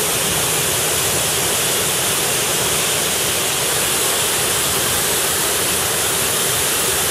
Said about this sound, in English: Here's some pretty little fountains.